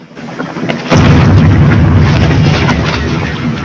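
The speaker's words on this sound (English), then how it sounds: "The cannon of Chateau d'If." A cannon at Chateau d'If fires: a deep, heavy boom erupts about a second in and rolls on as a sustained rumble, loud and close, after a quieter noisy start.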